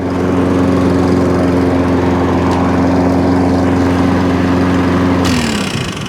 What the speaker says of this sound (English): Cheap little lawnmower.